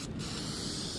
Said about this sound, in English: this spray paint on, just to paint it